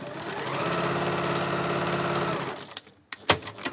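A home sewing machine stitches quilt patches together in a steady, close mechanical whir for about two and a half seconds, then stops, followed by a few sharp clicks and knocks.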